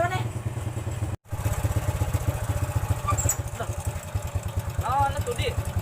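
A motorcycle engine idles nearby with a steady, rapid low putter, briefly cut off at one point, while people talk over it.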